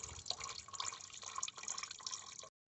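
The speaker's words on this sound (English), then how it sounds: "just wait until all the coolant come out" Engine coolant drains from a 2016–2020 Honda Civic radiator, a steady close trickling and splashing of liquid that runs for a couple of seconds and then stops abruptly.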